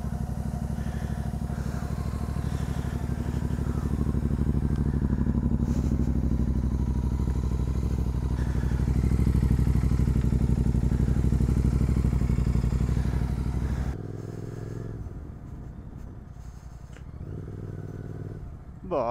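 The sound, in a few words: GT 650 motorcycle 650 cc engine cold start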